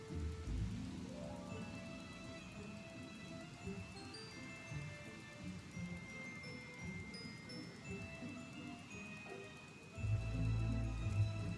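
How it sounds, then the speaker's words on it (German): Soft, steady rainfall in the video game Final Fantasy 14 patters throughout with scattered small ticks, and a low rumble swells near the end. No voices. "Aber witzig, dass es hier immer noch regnet."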